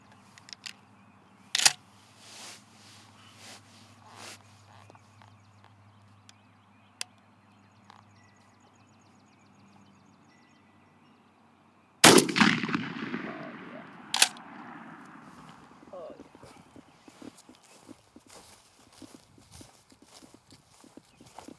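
A shotgun fires a single loud blast at an outdoor pattern target, preceded by quiet clicks and handling, followed by a ringing decay and scattered small noises.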